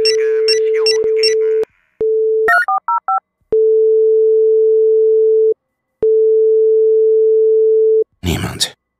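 A telephone in the video game Nikopol plays a steady dial tone in long sustained stretches, broken by short gaps and a quick run of stepped dialing beeps, with brief bursts of other game sound at the start and end.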